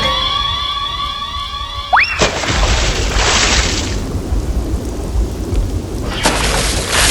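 A thunderstorm with heavy rain: a tonal sweep gives way to a loud thunder crack, then steady dense rain hisses with another rumble near the end.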